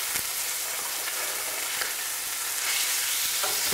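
A mackerel fillet fries in a hot pan, giving a loud, steady crackling sizzle up close with small pops throughout and no talking.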